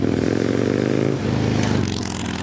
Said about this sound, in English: but Harley Davidson has a distinct sound.